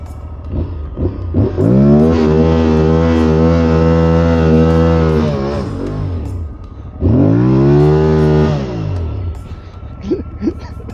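An Aprilia Tuareg 660 motorcycle riding off-road in sand on street tires, its engine revving loud and close in two long sustained pulls with a falling pitch between them.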